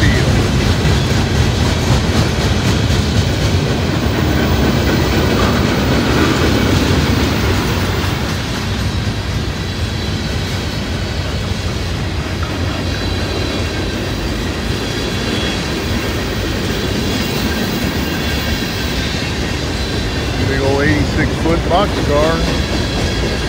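Freight train boxcars roll steadily past on the rails, a loud, continuous rumble with clickety-clack wheel beats and a brief squeal near the end, close to the track.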